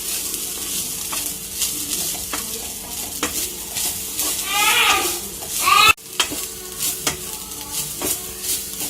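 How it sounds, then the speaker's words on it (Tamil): Grated coconut roasts in a pan for sweet laddus, a dry crackling sizzle with frequent spatula scrapes and knocks, close up; a brief higher squeaky sound rises midway and a short gap cuts in near the sixth second. "தேங்காய் போட்டு நல்லா வறுக்கணும்"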